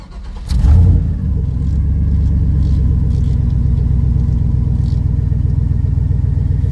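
A turbocharged LS V8 truck engine cranks briefly, catches with a loud burst, then settles into a steady, throaty idle that continues close by.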